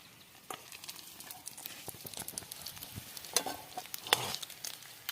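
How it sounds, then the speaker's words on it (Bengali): Eggs fry in hot oil in a village kitchen, giving a soft, steady sizzle broken by irregular crackles and pops, with a few louder spatters near the end. The sound is close and fairly quiet. "বন্ধুরা আমার তেল গরম হয়ে গেছে, ডিমগুলো ভেজে নিব"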